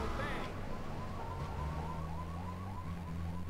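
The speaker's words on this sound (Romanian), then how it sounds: "Ok, văd că le-am activat o alarmă." A police siren wails in steady repeating sweeps in the GTA III video game, loud and continuous over low engine rumble, with no talk over it.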